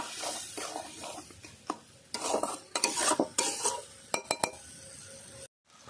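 Turmeric powder and salt fry in oil in a pan. Loud, irregular scrapes, stirring strokes and metallic clinks run over a soft sizzle, then stop abruptly near the end.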